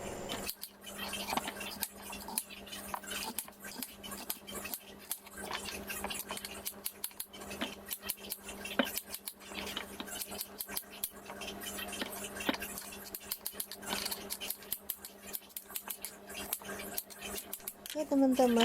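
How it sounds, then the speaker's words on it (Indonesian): A kitchen knife cuts potatoes into pieces for fries, giving a steady run of sharp taps and crisp slicing clicks against the board throughout, fairly close and moderate in level. "Oke, kentangnya dipotong-potong semuanya seperti ini."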